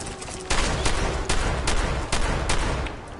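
Shotgun blasts in the video game Fallout 4, seven loud, sharp booms spaced roughly every half second to a second, each with a short rumbling tail over a steady background hum.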